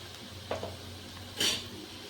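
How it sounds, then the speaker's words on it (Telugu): Onions browning in a pan with turmeric and salt, a soft steady sizzle with a few scraping stirs and a brief louder clatter, fairly quiet and without talk. "ఇవి కొంచెం వేగేదాకా ఉంచుకుందాం. ఆనియన్స్ ఇంకొంచెం వేగాలి."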